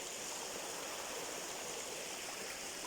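Steady rushing water flows continuously, a soft, even hiss of a stream with no breaks or voices.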